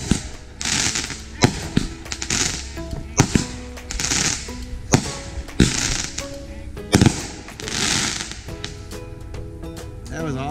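Fourth of July fireworks go off in a rapid string of sharp cracks and bangs, some louder pops standing out, close to the microphone, with people talking in between.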